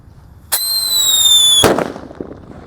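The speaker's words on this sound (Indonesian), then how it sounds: "Sudah menyala guys. Mercon Black Buster." A Black Buster firecracker lets out a piercing whistle for about a second, then goes off in a single loud, close bang that fades quickly into quiet.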